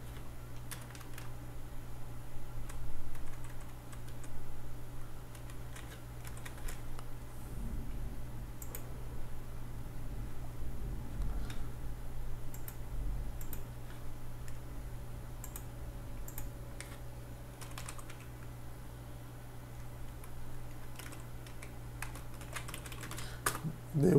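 Keys clicking on a computer keyboard during a Delphi programming session, with scattered taps and short bursts of keystrokes over a low steady hum, fairly quiet and close, with no speech.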